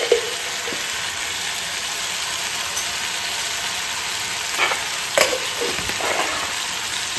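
Pumpkin and fish curry with ginger paste sautés in a pan, a constant hissing sizzle broken by a few sharp scrapes and clicks of stirring, close by and with no voices.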